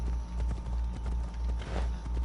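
Rhythmic hoof beats of a galloping video-game horse, a steady repeating clip-clop pattern at even volume with no voices.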